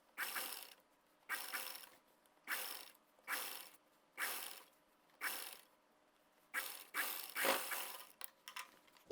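A sewing machine stitches a shoulder strap on a sleeveless top, running in short, even bursts of mechanical whirring with brief pauses between them, close and fairly quiet.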